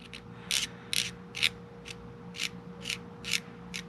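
A hand ratchet tightens a drive shaft bolt on a Pontiac GTO, giving eight or nine short, crisp bursts of clicking pawl at a steady, even pace, close up and alone with no voices.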